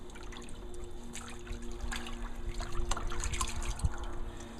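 Water trickles and splashes over a dog being wet down during a bath, a close, continuous pouring and dribbling sound with a faint background hum.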